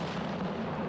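A tank cannon fires in World of Tanks Blitz, the Ice Claw, with a loud, dense roaring blast that fills the moment with heavy rumbling noise and no clear tail or silence.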